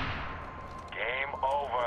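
A drone missile strike detonating in Medal of Honor (2010), a heavy explosive rumble that decays under radio chatter and voices speaking over it.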